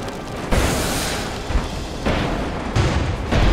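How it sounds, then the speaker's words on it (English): Cannon shots strike an airship in the video game Airships: Conquer the Skies, a run of four or five heavy booming impacts that arrive in loud, close bursts with no talk. "Looks like it's taking direct cannon shots, and then with the biplanes too."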